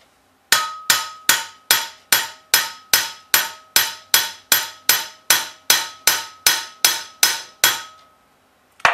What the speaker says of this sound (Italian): Con un martello ed un incudine andiamo a appiattire la parte che è stata piegata